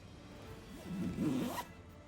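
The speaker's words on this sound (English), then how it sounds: "It's got a zipper." A zipper on a Lovesac throw pillow cover is pulled in a quick, close rasping zip lasting about a second, in an otherwise quiet room.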